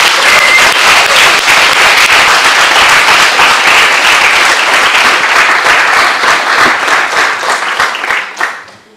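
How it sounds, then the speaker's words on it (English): Audience applause for the team at the ERUA university alliance gathering on an Aegean island, sustained dense clapping from a large crowd filling the room for about eight seconds before fading out at the end. "a big applause for the whole team at the ERUA."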